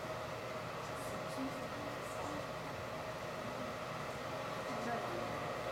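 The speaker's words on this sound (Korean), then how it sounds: "드라이기 소리." Hair dryer running as a lullaby for a baby, a steady broadband whooshing drone, even and continuous at moderate level, with no clear talking.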